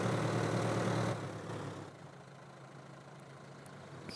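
Tractor engine idling in Farming Simulator 2013, a steady low rumble that is louder for the first second and then settles to a quieter, even drone, with no talk over it.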